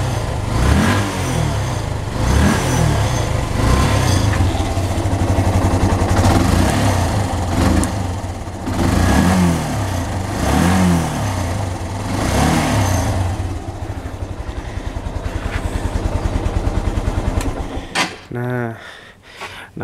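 A Yamaha Byson motorcycle engine, its carburetor just fixed, runs close and loud, blipped through repeated rising revs over a steady throb before cutting off near the end; someone talks over it.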